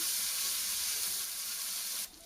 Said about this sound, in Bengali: আদা রসুন আর জিরা বাটা একসঙ্গে সব বটেছে, ওটা দিয়ে দিলাম। একটু ভালো করে ভেজে নেব।